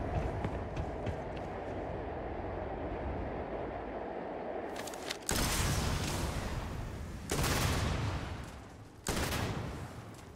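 Weapon fire in the sci-fi video game Starfield: three loud, sharp bursts of shooting break in after a stretch of steady, low game ambience.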